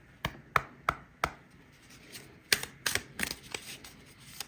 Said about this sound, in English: they shuffle nicely